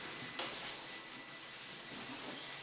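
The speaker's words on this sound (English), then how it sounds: "And your rag doesn't have to be really wet to wipe this down." A rag wiping down a tile surface during cleaning, giving a steady, soft rubbing swish that runs continuously at close range with no talking.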